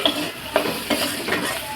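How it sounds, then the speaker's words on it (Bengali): Potatoes fry in a pan, a spatula stirring and scraping in a few quick strokes over a steady close sizzle. "আলুটা তো একটু ভাজতে সময় লাগবে বলো।"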